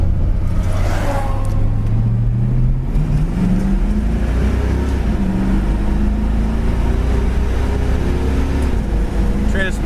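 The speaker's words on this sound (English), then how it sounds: "I'm gonna go ahead and go through the gears a little bit" A 1968 Ford Mustang fastback engine pulls hard through first, second and third gear, a loud continuous roar with rising pitch sweeps and brief dips at each shift, heard from inside the car.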